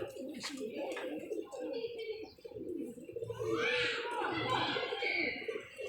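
A pigeon coos in short throaty bursts near a handler, with voices talking steadily throughout and the cooing rising more clearly toward the end.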